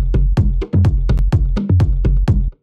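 A sampled house drum loop with a reworked rhythm plays alone: punchy, evenly spaced kicks and snappy hits in a tight groove, loud and dry.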